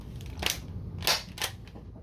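A Radioactive Designs foam dart blaster loaded with two darts per barrel fires three sharp snapping pops in quick succession, close by over a faint background hiss.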